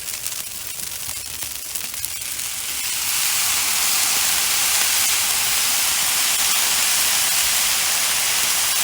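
Low sodium soy sauce poured into sizzling shrimp or chicken fried rice in a hot pan, the steady hiss swelling louder after a few seconds and holding as a broad, close, continuous sizzle with no talking.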